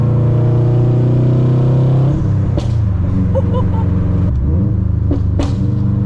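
A Subaru WRX STI with a new downpipe and burble tune rumbles loudly close by, holding a deep steady drone before dropping into a lumpy burble punctuated by a couple of sharp exhaust pops.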